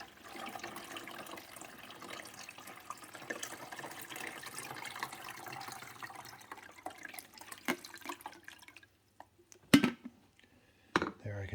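Quiet stream of water pouring into the reservoir of a Hamilton Beach 49350 coffee maker, faint and steady, then stopping, followed by a couple of brief clunks.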